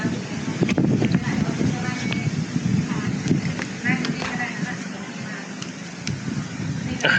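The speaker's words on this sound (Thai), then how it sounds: "ลมมันแรงอ่ะ" Strong wind gusting across a tent campsite on Doi Samer Dao mountain, a continuous rough buffeting roar close to the microphone, rising and falling, with voices talking under it.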